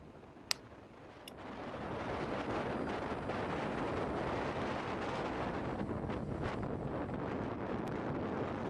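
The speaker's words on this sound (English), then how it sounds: "It's nice and windy there." Outdoor wind buffeting a microphone at an airfield in Victoria beside a retired Qantas airliner, a low rumbling roar that kicks in after a second and stays steady and loud, with a couple of brief clicks at the start.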